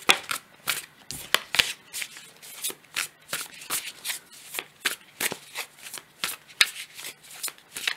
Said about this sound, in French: Alors on va peut-être prendre une deuxième carte pour accompagner